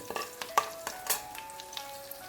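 Curry leaves and dried red chillies crackle in hot oil for a fish and mango curry tempering, a quiet close sizzle with scattered sharp pops and light stirring scrapes, with no voices.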